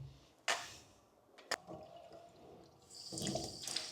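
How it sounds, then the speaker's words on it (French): Tap water from a pump is poured into a cleaning appliance in a new apartment, heard as faint splashing with a couple of sharp knocks and then a steadier running stream at the end. "on va mettre l'eau dedans en même temps"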